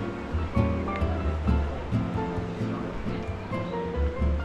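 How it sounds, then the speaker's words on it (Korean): Water flows and rushes steadily through a canal in Annecy, France, a continuous close wash with soft surges, while low voices murmur faintly beneath it. "근데 여기 물 흐르는 게 진짜 멋있지."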